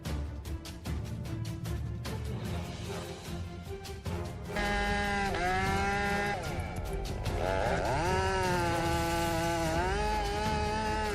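Chainsaw cutting a tree, a loud droning engine with rising and falling revs as it bites into the wood, continuous, with a steadier stretch early on and harder revving later.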